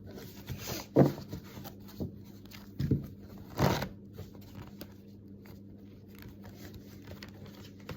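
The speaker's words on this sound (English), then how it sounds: "I'm such a terrible shuffler." Tarot cards being shuffled by hand, soft papery riffling and shuffling with a few louder slaps and knocks, close and fairly quiet, with pauses between bursts.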